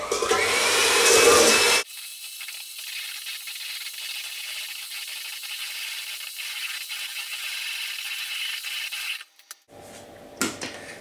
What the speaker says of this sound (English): With your trusty hand whisk set to with the 4 egg whites